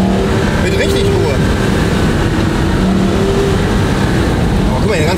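Porsche Carrera GT engine while driving, a loud, continuous drone heard from inside the car with faint voices talking over it.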